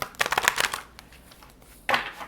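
Tarot cards are riffled and shuffled in quick rustling bursts, close by, with a pause and then another brief shuffle.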